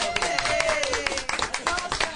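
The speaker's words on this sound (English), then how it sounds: "How often do your bills get applause, right?" Several people clap in applause after a California Senate bill, SB 138, passes its first Senate Education Committee hearing. Sharp, uneven claps come mostly in the second half, mixed with a voice talking over them.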